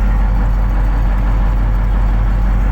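A T-150 tractor's engine idles steadily nearby, a continuous low rumbling drone with an even mechanical throb and no voices over it.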